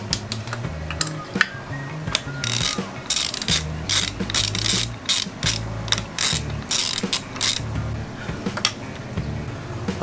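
A torque wrench ratchets on the cylinder head bolts of a Yamaha DT125 two-stroke during a top-end rebuild, tightening to 25 newton-metres. It gives repeated close, crisp clicking bursts in uneven runs across the whole stretch, with no talking.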